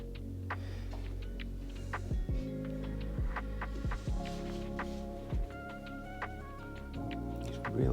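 A Famag IM5S spiral mixer kneads dough with a steady motor hum and a regular, rhythmic thumping as the dough slaps around the bowl, close and continuous.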